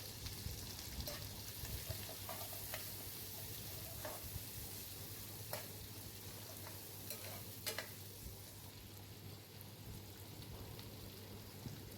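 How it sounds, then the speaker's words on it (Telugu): Onions and green chillies frying in oil, a steady close sizzle with occasional stirring clicks and scrapes of the spoon, continuous throughout with no voices. "ఇప్పుడు ఉల్లిపాయలు, పచ్చిమిరపకాయలు ఆయిల్లోనే వేయించుకుందామండి."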